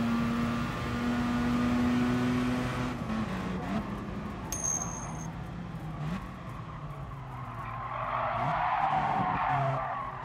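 A racing car in Gran Turismo Sport, an Alfa, holds a steady engine drone with long tire skids and squeals, and a louder rushing skid builds near the end, with no voices.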